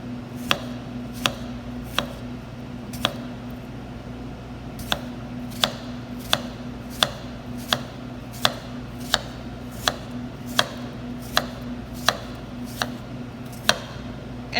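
A knife chops food on a cutting board while cooking, giving steady, evenly spaced crisp knocks about twice a second, close and distinct over a low steady background hum.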